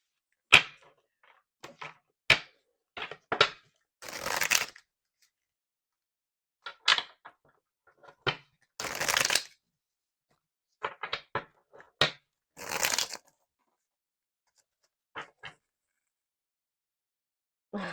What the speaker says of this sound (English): I was already seeing this card in my head while I was shuffling this deck